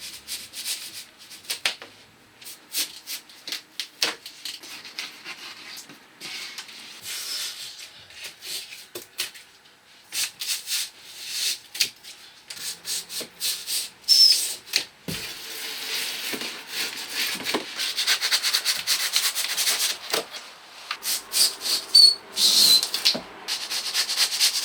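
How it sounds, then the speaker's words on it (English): A handsaw rasps through hardened expanding foam between PIR insulation boards on rafters, with irregular scratchy strokes that build louder toward the end, close and continuous with no talk. "we do this simply using the same handsaw we were using to cut the insulation"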